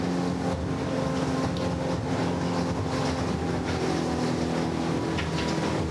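A 16ft skiff sailing during a club championship race at Manly, with steady wind and water rush, hull slap and rigging rattle throughout, loud and close, with no voices.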